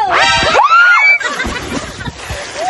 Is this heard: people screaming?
yes